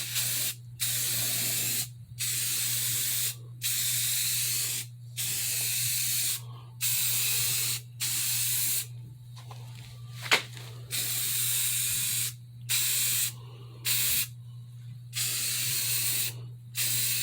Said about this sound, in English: try making sure we get an even, thin coat of primer this time